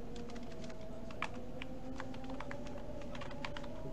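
Steady close clatter of computer keyboard keys as Django code is typed, with an even rapid rhythm over a low constant hum and no talk.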